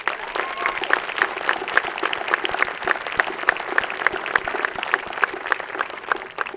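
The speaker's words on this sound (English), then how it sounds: "Please give your grandparents a big round of applause." Steady applause from an audience at a high school graduation, many hands clapping continuously at moderate volume, with a few sharper claps standing out in a regular pattern.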